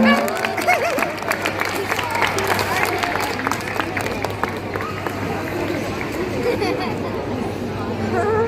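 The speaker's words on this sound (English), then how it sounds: "So can we please give Pablo one last round of applause?" Audience at an indoor sea lion show in West Edmonton Mall clapping for Pablo the sea lion, scattered applause mixed with lively crowd chatter and voices throughout.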